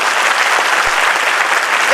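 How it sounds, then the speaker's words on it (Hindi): Audience applause fills a motivational talk hall, a steady dense wash of clapping from many hands, loud and close, sustained without a break. "एक बार तालियां सबको दीजिए।"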